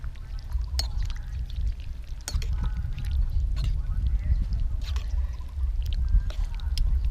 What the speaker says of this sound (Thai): เทน้ำซุปก่อนครับ